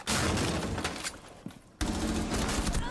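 Rapid gunfire fills a shooter video game match, dense sustained bursts with a brief lull before another loud volley.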